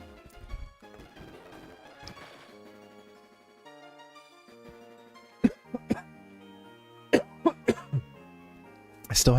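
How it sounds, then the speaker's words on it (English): Several sharp, dry coughs from a person recovering from a lingering illness, scattered irregularly in short bursts, close and loud over a quiet background with faint electronic game music from a Pokémon Platinum playthrough. "I still have that cough."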